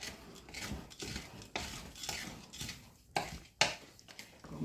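A spoon works through buckeye cookie dough mixed with mini semi-sweet chocolate chips, giving rhythmic scraping and clinking strokes against the bowl, close and fairly quiet, each stroke distinct.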